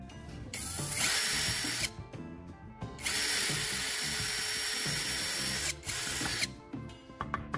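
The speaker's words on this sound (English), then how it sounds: "Drill a small hole on the aluminum bottle body." A power drill bores a small hole in the body of an aluminum Coke bottle. It whines loudly in two long bursts with a short pause between them, and the bit rattles and clicks as it stops.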